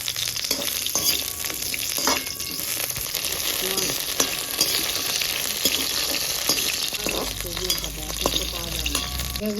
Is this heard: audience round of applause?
no